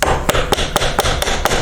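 Hinge pins being pounded into a door hinge: seven sharp, loud metallic strikes at a steady, even rhythm, close up, with no voices.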